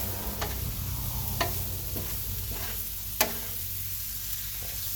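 Sloppy joe ground meat sizzles steadily on a 22-inch Blackstone griddle, a soft continuous frying hiss with a low hum beneath and a few sharp scraping clicks from a utensil.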